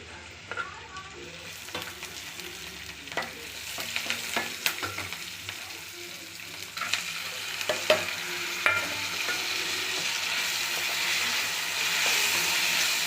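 Oil sizzles steadily in a pan as curry leaves fry while a spoon scrapes and stirs, with occasional sharp crackles and pops; close and continuous, no talking.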